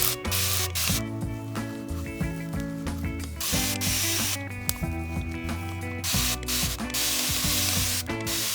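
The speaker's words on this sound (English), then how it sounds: "So I'm gonna spray it" Spray bottle misting water onto curly hair during a wash-and-go routine, repeated pumping sprays with ratcheting trigger clicks, close up, heard beneath steady background music.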